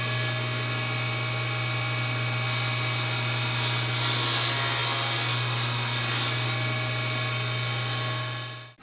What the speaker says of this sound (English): I'm going to do that on the table saw